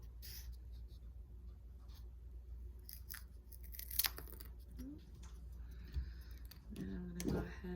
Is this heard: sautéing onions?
no